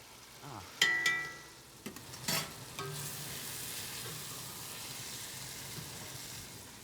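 Cabbage sizzles and crackles in a hot pan, with a few louder stirring scrapes early on and then a steady, close frying hiss that carries on alone.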